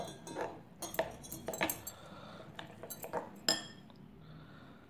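A spoon clinks and scrapes against a bowl in quick irregular bursts while masoor dal batter with spices is beaten, close and fairly quiet, with no voices.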